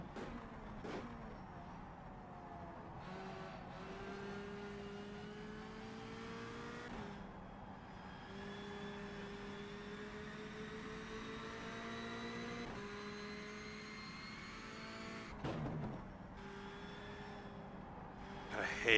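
A Clio Cup race car engine in the rFactor 2 sim at Croft, droning steadily through gear changes with rising and falling pitch and brief drops on shifts, with a voice talking over it.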